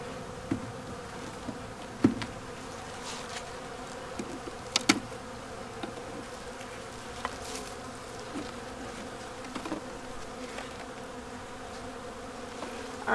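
Honey bees drone at an open, queenless hive, a steady close buzzing swarm throughout with occasional louder bees passing near.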